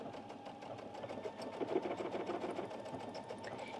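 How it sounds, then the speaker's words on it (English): A sewing machine stitches a decorative pattern through two layers of fabric, a quiet, steady mechanical whir with rapid needle ticking heard alone and close throughout. "It is puckering the fabric a bit. So are you thinking of gathering with this as a decorative stitch on a gather, Evelyn?"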